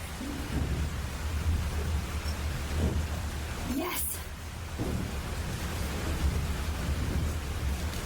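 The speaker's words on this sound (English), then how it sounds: "This storm's real." Thunderstorm with steady rain in the video game Life Is Strange, a continuous rushing downpour with low rumbling thunder and a brief sharp crack midway, while a voice shouts briefly over it.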